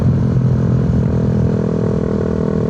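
A Honda Sonic 150 R motorcycle with an SC Project exhaust and no dB killer holds a steady, loud, raspy rev close by for a couple of seconds, with no talk.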